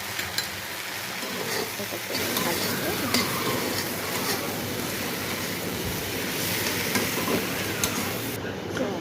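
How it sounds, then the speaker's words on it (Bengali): Leafy greens stir-fried in a pan with turmeric and salt, a steady close sizzle with scraping stirring strokes running throughout, no talk over it. "এই যে শাকের মধ্যে এবার হলুদ গুঁড়ো, লবণ সব কিছু দিয়ে ভালো করে এদিক ওদিক নেড়ে নেব"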